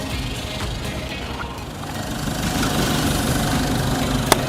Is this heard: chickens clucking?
no